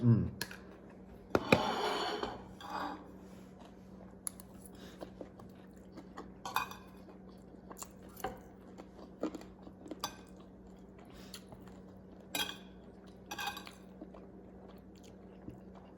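Spoons and cutlery tapping and clinking against dishes during a meal of fish and beef, scattered light clicks and scrapes spread over a steady low hum, close by, with people chatting in between.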